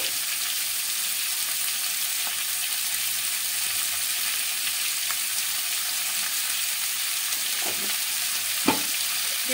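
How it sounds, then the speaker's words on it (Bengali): Beans and capsicum fry in a pan with a constant close hissing sizzle, while occasional soft clicks and scrapes of a stirring spatula break through. "শিম আর ক্যাপসিকামটা একটু নেড়ে নিচ্ছি আগে"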